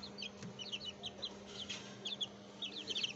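Aseel chicks chirp in rapid, high-pitched peeps, scattered bursts repeating through a quiet room with a faint low hum beneath.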